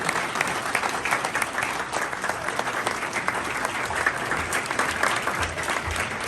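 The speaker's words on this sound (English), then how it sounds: "I'll say another round of applause" Sustained applause from an audience at a Marine Corps honoring ceremony, steady and fairly loud dense clapping throughout with no break.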